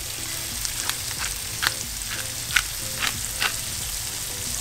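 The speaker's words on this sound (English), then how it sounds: "You don't get that much sizzle when you're using a nonstick." Mahi mahi fillets seasoned with garlic powder fry in a nonstick pan, giving a steady soft sizzle with a few brief sharper crackles and pops and no talking.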